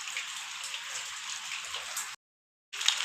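Steady rain falls outside a house during several days of wet weather, a soft continuous hiss of drops on surfaces heard from indoors, faint and even, briefly cutting out before resuming.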